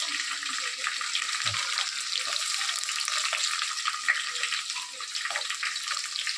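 Chopped onion, green chili and carrot frying in a pan for biryani, a steady close sizzle with faint stirring, continuous throughout and clear of speech.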